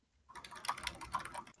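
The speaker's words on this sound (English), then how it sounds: "we can hear you typing" Rapid keystrokes clatter on a computer keyboard in a quick, uneven burst of clicks, fairly close and alone, starting after a brief quiet moment.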